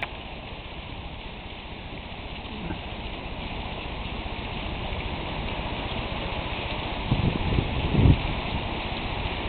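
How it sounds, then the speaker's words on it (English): Heavy rain pours down in Sarlat in a dense, constant hiss, with a few louder thuds and splashes close by toward the end. "It's not sheet lightning, it's sheet rain."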